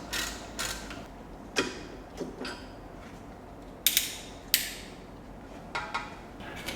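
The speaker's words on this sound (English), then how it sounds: "I'm just giving this screw a bit of a clean out in the hope that we can get the tool in there" A corroded hex size 6 screw on an Audi Q7 drive axle is scraped and cleaned out by hand, giving intermittent creaks, sharp metallic clicks and brief scratching bursts at close range.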